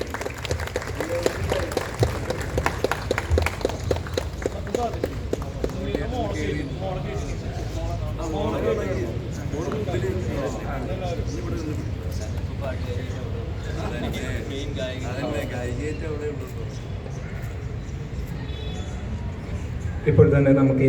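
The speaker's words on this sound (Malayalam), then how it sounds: "നല്ലൊരു കൈയടി കൊടുക്കാം." An audience claps at a basilica centenary event for a title song and logo release. The applause is strongest at the start and then fades under an announcer speaking over a microphone.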